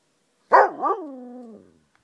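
A puppy at a park gives one clear, drawn-out bark that slides into a falling whine. It sounds close, with silence before and after.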